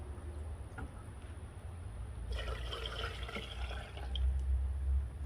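Water pours into a Ninja blender jar for homemade fish fertilizer, a faint trickle that becomes a brighter splashing fill partway through over a low background hum.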